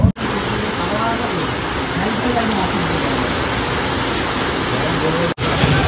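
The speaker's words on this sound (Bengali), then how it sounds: "খুব জোর বৃষ্টি হচ্ছে" Heavy rain pours in a dense, steady roar close by, loud and unbroken for several seconds, with a voice faintly talking under the downpour.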